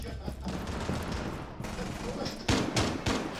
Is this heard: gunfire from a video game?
yes